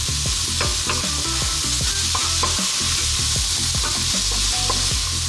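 Broccoli sizzles loudly in a hot wok or pan alongside Chinese five-spice pork belly as it is stir-fried, a dense, steady frying hiss broken by the scrape and clatter of stirring.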